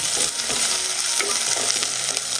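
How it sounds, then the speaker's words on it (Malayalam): Crushed garlic and ginger fry in a pan as they are stirred, a dense close hiss with soft scraping strokes and no voices. "ഇതിൻ്റെ പച്ചമണം മാറി കിട്ടുന്നവരെ ഒന്ന് ഇളക്കി കൊടുക്കുക"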